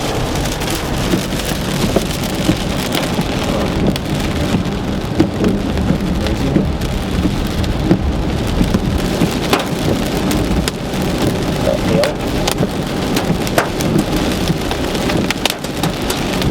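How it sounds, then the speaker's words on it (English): A heavy monsoon rainstorm in Phoenix pours down steadily, a dense, loud, unbroken hiss of rain striking surfaces, with low rumbling thunder mixed through. "Crazy rainstorm, out of control,"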